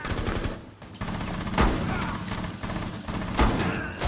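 Repeated bursts of rapid gunfire in Rainbow Six Siege crackle in quick succession, loud and close, with sharp individual shots standing out over a busy rattling background.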